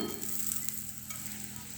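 A paratha fries on its second side in a hot pan, giving a quiet, steady sizzle with faint stirring noises.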